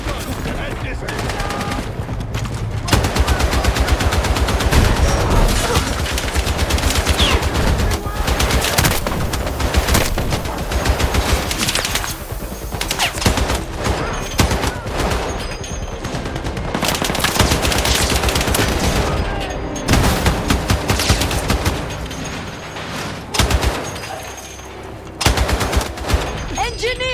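Machine gun fire in the Battlefield 6 campaign, loud sustained bursts rattling almost continuously through a dense battle mix with explosions, shouted voices and other gunfire.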